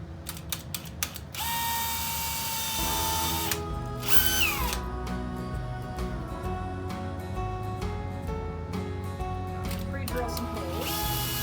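A power drill pre-drills holes in wood, whirring in short bursts with clicking and ratcheting mechanical noises, close by, with background hum throughout.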